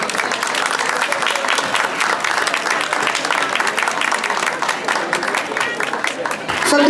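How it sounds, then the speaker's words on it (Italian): A large audience at a half-marathon event in San Nicola la Strada applauds steadily, dense clapping filling the space without pause, loud and close. "Un applauso signori."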